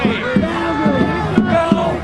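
A large anti-fascist protest crowd facing Patriot Prayer supporters at a street rally, voices rising in a loud, rhythmic chant that pulses about twice a second, close and continuous.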